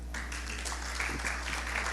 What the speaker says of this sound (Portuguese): Recebê-lo com alegria, aplaudindo o Senhor.